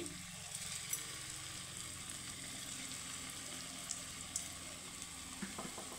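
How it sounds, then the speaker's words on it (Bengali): Shahi paneer kofta balls fry in hot oil over a low-to-medium flame, giving a steady, soft sizzle with a few faint crackles and pops and no talking. "এখন আমি ভেজে নেব, তেলটা গরম করে নিয়েছি আমি"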